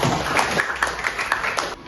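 A classroom of students claps briefly, a brisk run of close handclaps that stops abruptly near the end.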